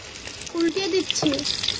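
Gourd leaves coated in gram flour fry in hot oil, a steady close sizzle and crackle with a few stirring scrapes, while a voice speaks briefly over it.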